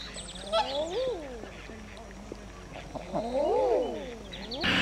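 Ducks and wildfowl, including eider ducks, call at a wetland centre in Llanelli, giving soft rising-and-falling cooing calls in two bursts, fairly close, with faint background noise.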